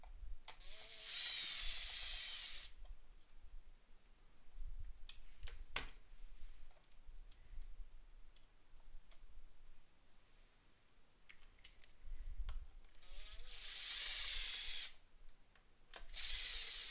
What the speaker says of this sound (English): our battery has died on the drill